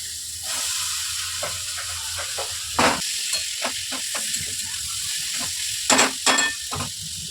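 Potatoes go into a pan of frying ridge gourd, giving a steady close sizzle broken by several sharp spatula scrapes and clinks.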